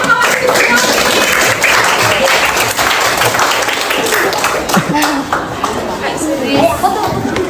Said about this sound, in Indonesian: Terus kali tepuk tangan dong